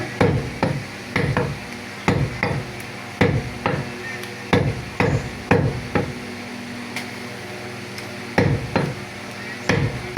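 Meat being chopped into pieces with a heavy cleaver on a block, a close, loud run of sharp thudding strikes in quick bursts with brief pauses, no talking.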